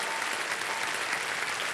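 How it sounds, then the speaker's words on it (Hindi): A studio audience on a televised quiz show applauds a contestant whose time has run out, dense steady clapping filling the room at an even level throughout. "तालियां बज जाए इनके लिए।"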